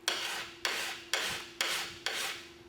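Five even, rasping strokes as a ski scraper is pressed and drawn across a burr-forming sharpener on a bench. Each stroke starts with a crisp attack and fades, spaced about half a second apart, close and alone.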